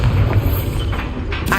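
A Bombarda spell explosion in the video game Hogwarts Legacy: a heavy, booming blast with a sustained low rumble that carries through the whole moment, with a few sharper crackling bursts near the end.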